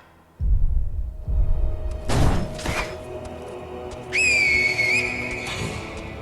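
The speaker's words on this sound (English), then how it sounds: "Let's use our finger whistle to make sure we get them." A sharp finger whistle rings out in the Sekiro video game, a bright sustained tone that holds for about a second after a couple of dull thuds and impacts in the game.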